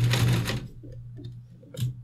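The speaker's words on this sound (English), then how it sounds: "And we just sew a straight seam." A sewing machine stitches a straight seam through a pleated fabric face mask, a short loud whirring run that stops, then quieter intermittent clicks and a brief final burst of stitching.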